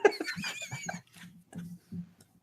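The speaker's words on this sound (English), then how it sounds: "Put that dog bark in there." A dog bark sound effect: a short cluster of soft, muffled barks and whimpering yips in quick succession, fairly quiet and close, with no talking.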